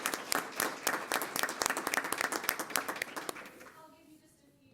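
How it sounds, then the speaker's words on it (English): An audience applauds at a school district governing board meeting, a dense wash of many hands clapping that holds steady for about four seconds and then thins out and fades away. "our community deserves a round of applause"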